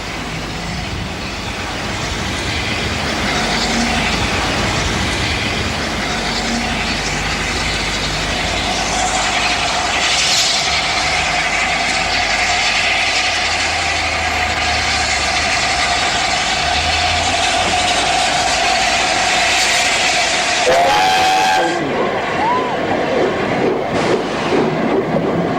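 The LNER A4 steam locomotive Mallard backs onto its train with a steady, loud rolling rumble and a sustained mechanical tone, a brief squeal of wheels near the end, no voices.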